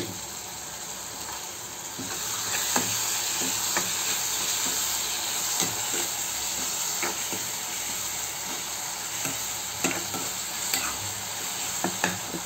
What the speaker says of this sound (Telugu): ఈ టమాటాని మూత పెట్టి కొంచెం సేపు మగ్గనిద్దాం.